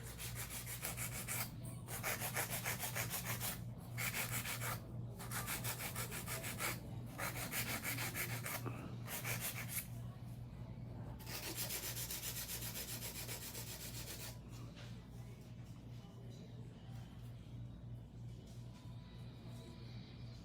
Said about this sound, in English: A little bit of hand filing, a little bit of cuticle work.